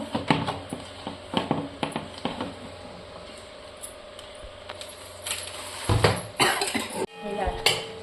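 One kilo of dry coconut pieces tipped into a hot pan for roasting, scattering as a series of hard rattling clinks and clattering pours close by, with a person talking in between.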